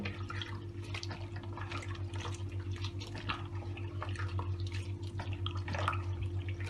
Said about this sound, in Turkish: Limon kabuklarımı sıkıyorum suyunu.